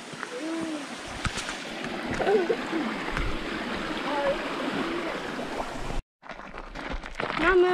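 A river stream on the Carrauntoohil hiking trail in Ireland, a steady broad rush of flowing water close by, briefly cut off near the end before resuming, with faint bird calls and occasional voices.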